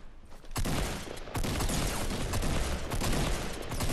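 Sniper fire and other gunfire in a 2v1v1 squads video game match, dense and continuous with sharp loud cracks near the start, no speech.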